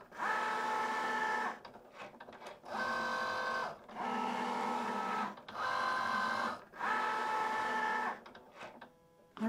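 A Cricut Joy Xtra cutting machine cuts cardstock with a steady mechanical whir that runs in five even passes, each separated by a brief pause, close to the microphone and with no other sound over it.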